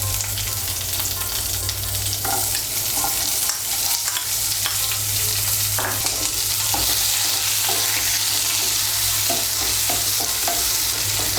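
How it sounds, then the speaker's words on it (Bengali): Chopped medium onion sizzles loudly in hot oil in a pan, a dense continuous frying hiss with occasional stirring scrapes, close and without voices. "পেঁয়াজটাকে হালকা একটু ভেজে নেব।"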